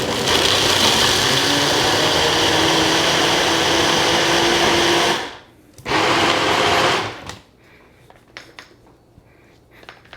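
A blender whirs loudly and steadily through a honey habanero jerk chicken marinade, cuts out briefly, runs a second short burst, then stops, leaving faint clinks and rattles.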